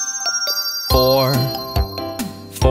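Bells ringing ding dong in a children's nursery rhyme song, bright chiming tones struck several times over a musical backing, moderately loud and close.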